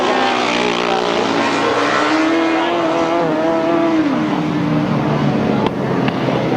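Grasstrack racing machines at a 1994 summer meeting roaring off the start and into the first bend, a loud sustained engine drone with a pitch rising then falling as they sweep past, under a commentator's voice.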